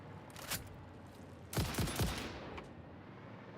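Gunfire in the factory-building game Satisfactory: a faint shot, then a quick burst of three or four rapid cracks in the middle, over a low ambient hum.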